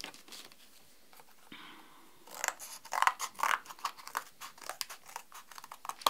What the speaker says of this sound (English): I'm going to cut another three pieces there.